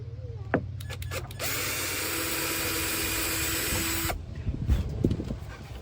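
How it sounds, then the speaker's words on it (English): A power drill with a small bit whirs steadily for about three seconds boring into a recycled pallet-wood table, close and loud, with brief revving before and after. "want to drill into the table"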